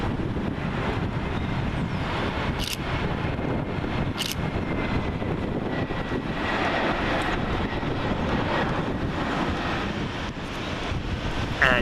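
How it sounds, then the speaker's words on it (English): An Aer Lingus Airbus A320-214 arrives on runway 23R at Manchester Airport, its engines a steady broad roar mixed with gusty wind on the microphone and faint camera shutter clicks, with no talking. "Next we have Aer Lingus Airbus A320-214, registration Echo Indigo Delta Echo Lima, working flight EI208, and that's come from Dublin."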